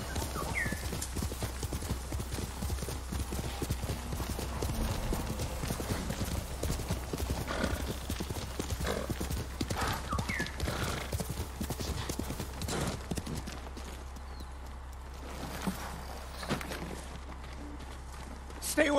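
Horse hooves clop rapidly and continuously at a gallop over a low rumbling background in Ghost of Tsushima, slowing and fading toward the end.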